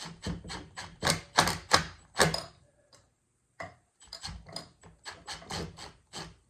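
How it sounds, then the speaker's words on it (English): An impact wrench with a 17 mm socket works on a Yamaha Banshee engine in short, rapid hammering bursts. Several quick rattling whacks come close together, then a brief pause, then another run of bursts. "I got a 17 millimeter here, and I got it on the end of my impact, and I'm just going to go slow and just give it a couple whacks"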